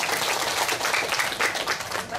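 Brief burst of clapping from a gathered group at a Buddhist memorial ceremony, a short round of applause with light chatter mixed in.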